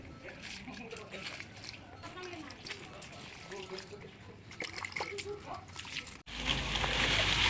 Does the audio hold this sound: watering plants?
yes